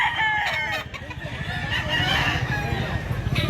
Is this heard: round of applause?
no